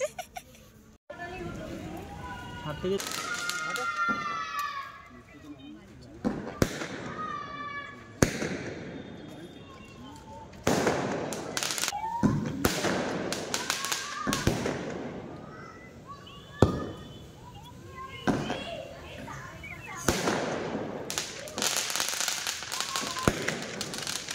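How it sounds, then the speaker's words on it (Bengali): Firecrackers and fireworks set off to welcome a bride home after a wedding, with sharp bangs, crackling bursts and whistling rockets going off repeatedly nearby while people talk throughout. "বাজি ফাটাচ্ছে। ঘরে লক্ষ্মী এসছে তাই সেলিব্রেশন।"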